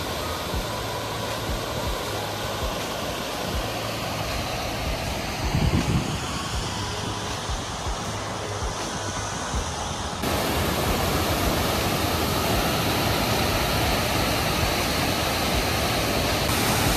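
The Fanes waterfalls in the Dolomites roar as a steady, dense wash of rushing water that fills the whole stretch, growing slightly louder partway through.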